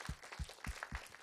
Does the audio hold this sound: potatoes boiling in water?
no